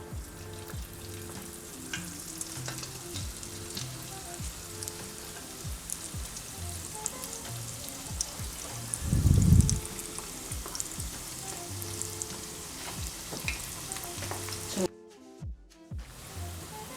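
Falafel fry in hot oil with a continuous close sizzle and crackle, a brief thump near the middle and a short drop-out near the end, with no talking.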